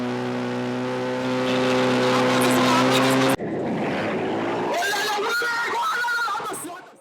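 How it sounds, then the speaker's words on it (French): Motorcycles from a biker association rev loudly during a demonstration at a road-safety event in Guadeloupe, a steady engine drone cutting abruptly into a rougher, shifting roar with strong presence throughout. "échange des élèves avec les motards de l'association et puis quelques démonstrations pour donner quelques décibels à la manifestation"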